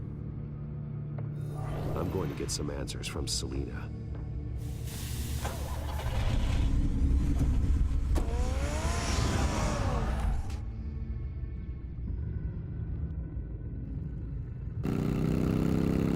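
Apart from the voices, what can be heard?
car engine running, from the video game Batman: The Telltale Series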